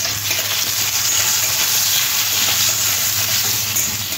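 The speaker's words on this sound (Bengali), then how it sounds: "আলুগুলো ভেজে নেব।" Diced potatoes coated with a little turmeric fry in hot oil, giving a steady, dense sizzle that holds at an even level throughout, with no voices.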